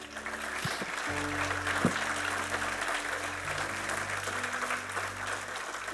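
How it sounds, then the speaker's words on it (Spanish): Worshippers in church applaud the Lord, a soft, continuous patter of many hands heard at a distance beneath a sustained low musical hum, with no one speaking. "Dale un aplauso al Señor, por favor."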